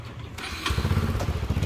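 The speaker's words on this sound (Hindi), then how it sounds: "ये बाइक राइडर जो है आ चुका है" A motorbike taxi pulls up in Kathmandu, Nepal, its small engine settling into a close, steady putter after a brief rustle at the start.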